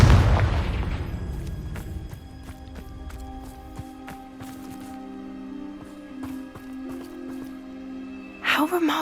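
A Confringo fire spell explodes in Hogwarts Legacy with a heavy, deep boom that rolls off into a long crackling, ringing tail. Scattered sharp clicks follow, and a brief burst near the end.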